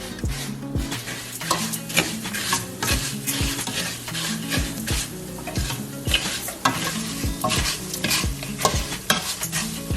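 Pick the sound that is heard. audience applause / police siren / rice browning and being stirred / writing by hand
rice browning and being stirred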